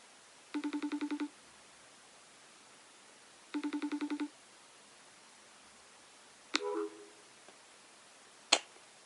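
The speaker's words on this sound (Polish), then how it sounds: "zaraz sobie zadzwonię do Kasi, co tam u niej słychać" Two short bursts of a rapid electronic phone ring, each about a second long, followed by a couple of sharp clicks in a quiet room.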